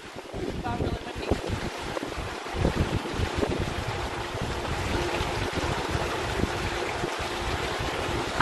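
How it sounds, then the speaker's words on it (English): Strong wind buffets the microphone outdoors in the mountains, producing a steady roaring rumble with gusty low thumps throughout, loud and continuous with no clear voice over it. "Got really windy."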